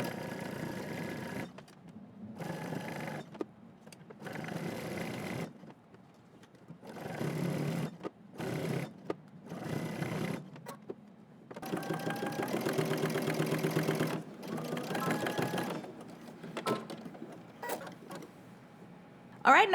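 Sewing machine stitching in the ditch along a seam line of track trousers with a back stitch, repeated bursts of mechanical whirring separated by pauses, the longest run in the middle, close and moderately loud.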